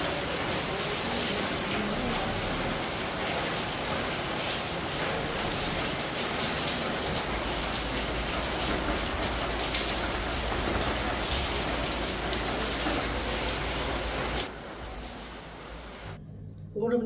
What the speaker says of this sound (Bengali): আর খুব জোরে বৃষ্টিটা হচ্ছে।